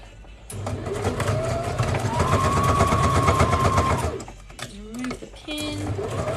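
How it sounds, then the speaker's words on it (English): Sewing machine fitted with a stretch needle sewing a fabric scrunchie, a continuous rapid mechanical whirr running for several seconds, briefly stopping, then starting again, with a voice talking over it. "So we're just going to sew along there."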